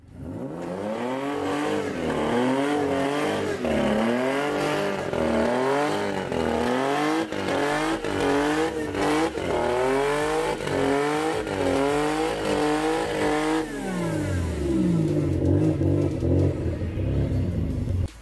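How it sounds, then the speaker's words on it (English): A Toyota Corolla with a supercharged BMW M50B20 engine driving hard, loud close engine revving up and down through repeated gear pulls, with a steady rising and falling whine, no talking. "Alright, so I took it for a little spin up the road and it rips."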